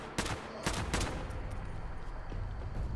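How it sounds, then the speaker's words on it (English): A 5.56 assault rifle fires in Fallout 76: a few sharp, close shots spaced early on, then quieter scattered pops under a busy game background. "It is I'll shoot the rest of its ammo,"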